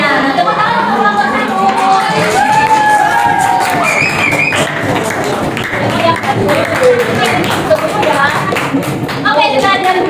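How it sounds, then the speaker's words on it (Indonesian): Classroom applause for a student group, loud clapping spread across a noisy room of students with cheering and chatter running throughout. "tepuk tangan untuk kelompok"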